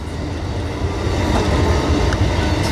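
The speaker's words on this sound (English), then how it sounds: "look, another Amtrak train" An Amtrak passenger train passes on the rails in North Philadelphia, a loud, steady broadband rumble with rolling wheel noise that builds slightly and holds throughout, with no talking.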